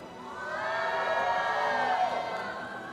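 A large arena crowd at a Honor of Kings esports event cheers and whoops in a sustained roar that swells and holds, loud and continuous, with no speech on top.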